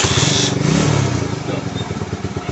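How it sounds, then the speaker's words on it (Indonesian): A motorcycle engine, fitted with an anti-theft secret ignition switch and shifted into neutral, runs steadily and close by in a loud, continuous rumble with a brief higher hiss at the start. "lalu kita hidupkan motor"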